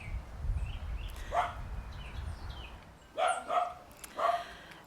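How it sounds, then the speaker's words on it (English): A dog barks several times at a distance, a few sharp yaps spaced apart over steady low outdoor rumble. "I've been standing here waiting for that dog to stop barking"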